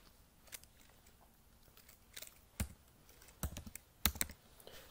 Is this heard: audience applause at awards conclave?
no